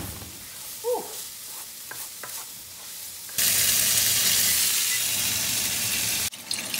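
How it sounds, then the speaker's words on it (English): Scallops dropping into browning butter in a pan, a faint stir and clink first, then a sudden loud, steady sizzle that holds for several seconds before briefly cutting off and resuming, close and alone. "Scallops are gonna go in the brown butter after it browns"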